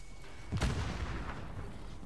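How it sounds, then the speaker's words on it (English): A grenade going off in the video game Modern Warfare, a single close, heavy boom with a short rumbling tail that fades under low background noise. "grenade."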